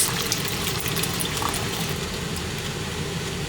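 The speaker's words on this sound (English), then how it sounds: "So I put the can of coconut into the peas." Canned coconut milk pours into a pot of peas for Jamaican rice and peas, giving a steady, close liquid rush and gurgle that runs unbroken throughout, with no talking.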